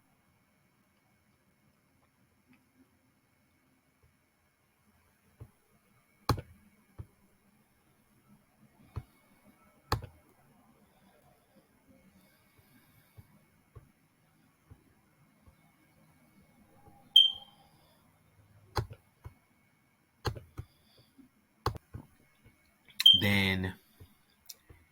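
Computer mouse clicks come sparse and sharp, a few single clicks and quick double clicks spread across a quiet stretch, with a brief spoken word among them.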